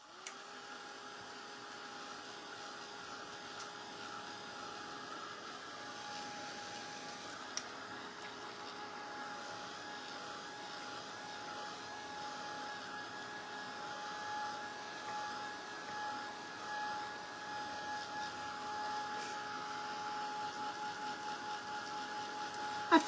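A hair dryer blows steadily to dry paint on a tea kettle, a continuous close whirring hum with a faint whine that holds for the whole stretch, alone without talk.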